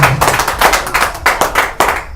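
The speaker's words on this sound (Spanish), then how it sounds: "Dale fuerte aplauso si va a aplaudir al Señor Jesucristo" Rhythmic unison clapping in a church congregation, sharp regular claps about every half second, loud and close with no talk over it.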